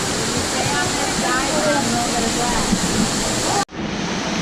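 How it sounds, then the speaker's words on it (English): Water from an artificial waterfall at Discovery Cove in Orlando pours in a steady, close, loud rush that fills the scene, then cuts off abruptly near the end, leaving a quieter wash. "Oh, another nice waterfall feature coming up."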